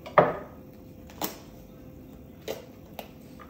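Green pepper being chopped on a board for a pipirrana salad: four separate knife strikes, sharp and close, spaced unevenly across a few seconds with quiet pauses between.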